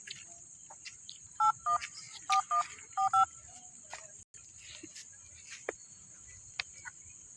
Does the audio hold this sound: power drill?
no